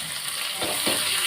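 Onion and curry leaves sautéing in hot oil for a Tamil keerai kulambu and potato kootu lunch, a steady close sizzle with a couple of stirring scrapes, no talking.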